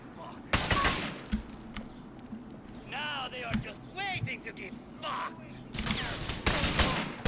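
Gunfire in GTA: The Ballad of Gay Tony comes as loud bursts of shots at the start and end, with whooshing and other game effects in between while someone talks over it.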